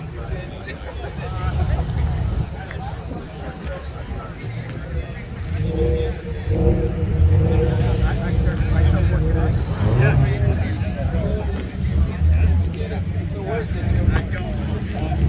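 Cars of all types gathered at a Cars and Coffee meet in Central Oregon, with engines idling and rumbling steadily, under a constant hubbub of crowd chatter.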